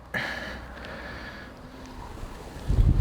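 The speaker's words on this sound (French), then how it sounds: "À ce vent là, c'est chiant." Gusty wind buffets the microphone in low, muffled bursts at an autumn riverbank, growing stronger toward the end, over a faint outdoor background.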